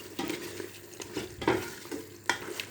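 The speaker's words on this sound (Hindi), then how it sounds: "अब इसमें हम अच्छी तरह भूनेंगे।" Mutton sizzling in half a cup of oil in a cooking pot, stirred in irregular scraping strokes with sharp bursts of frying crackle, close and fairly quiet, no voices.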